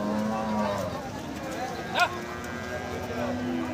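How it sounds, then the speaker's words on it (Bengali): Cattle at a rainy-day livestock market, with a low drawn-out moo near the start and another toward the end over a constant hubbub of distant voices and bustle. "ভাই অনেক বড় গরু দেখতেছি"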